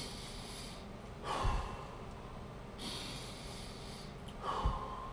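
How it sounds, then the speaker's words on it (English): Slow, deep breaths drawn in and let out, heard as soft airy rushes and a couple of sharper nasal intakes, close but quiet, spaced a few seconds apart with no talking. "Breathe just like that. Let it out. Don't hold it. Let it out."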